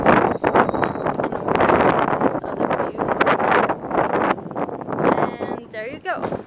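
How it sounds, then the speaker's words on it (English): Strong wind buffets a microphone outdoors at a scenic spot with a bench, a loud, continuous roar running under a person talking. "There's a lot of wind, as you might hear."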